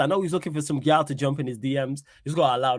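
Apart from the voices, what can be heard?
No everyday noise stands out behind the speech.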